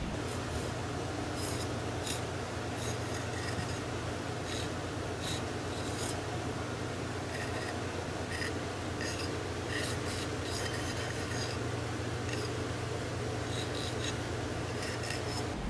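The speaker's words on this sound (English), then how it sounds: "now we're gonna take the pencil and sketch out the shapes of the fish" A pencil sketches fish shapes on a painted pottery plate, giving close, continuous scratchy rubbing with short repeated strokes throughout and no voices.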